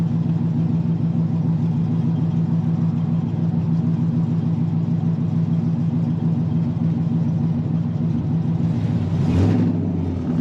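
A Corvette Z06 coupe with loud straight pipes rumbles at a deep, steady idle close by, then a brief sharp rev swells near the end before dropping back, with no talking.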